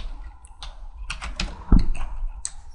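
Short bursts of clicking keystrokes on a computer keyboard as an email address is entered, a few quick taps then a louder key press near the end, close and clear with no talking.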